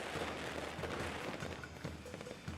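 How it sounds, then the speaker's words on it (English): Firecrackers go off in the video game Nine Sols, a quick run of faint, regular cracking pops at a moderate distance with no voices over them. "Wow, firecrackers."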